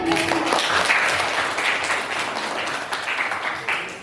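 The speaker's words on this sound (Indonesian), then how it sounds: "Silakan beri tepuk tangan yang meriah" Lively classroom applause from students in a ninth-grade civics lesson for a presenting group, a close, dense burst of clapping with some voices mixed in, holding fairly steady throughout.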